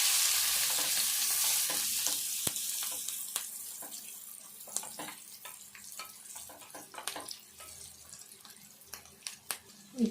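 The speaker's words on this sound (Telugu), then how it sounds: "పసుపు, ఇవన్నీ మంచిగా వేగేదాకా కలుపుకోవాలి." Turmeric, curry leaves and spices frying in a pan as they are stirred, a steady sizzle with scattered scraping clicks from the spoon, growing more clattery toward the end, with no talk.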